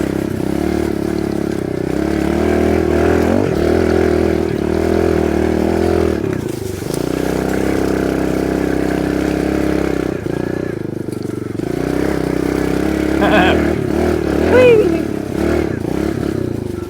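A Kawasaki KLX 110R dirt bike climbs a hill, its small engine buzzing steadily with revs rising and dipping, and tire scrapes and clatter mixed in close by.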